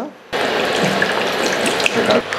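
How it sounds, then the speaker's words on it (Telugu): Water pours into a pot for Maggi noodles, a steady close splashing rush lasting a couple of seconds after a brief quiet start. "వాటర్ పోసి బాయిల్ చేయాలంట ఫస్ట్ 5 minutes"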